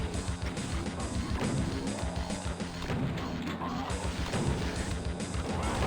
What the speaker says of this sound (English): I'm just gonna throw rockets at you.